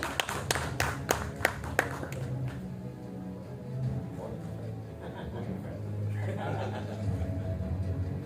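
Audience at a press conference for a Malaysian film industry cooperative clapping, with a few sharp distinct claps at the start fading into a softer murmur of chuckles and room noise.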